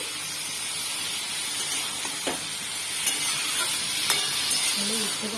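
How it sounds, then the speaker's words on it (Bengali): Mushrooms sizzling in a pan with spices, stirred with a few light scrapes over a steady close frying hiss, alone without talk. "ভালো করে এটা মশলার সঙ্গে মিশিয়ে একটু ভাজা ভাজা মতন করবো"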